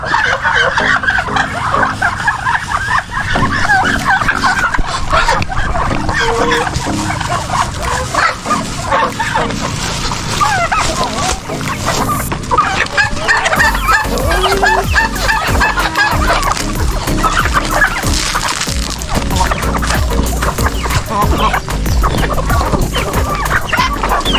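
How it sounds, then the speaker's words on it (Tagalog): Backyard chickens and turkeys at feeding time, with steady clucking and fowl calls filling the scene, a dog barking now and then, and low murmurs of activity throughout. "Ngayon po ay magpapakain tayo ng ating mga alagang manok."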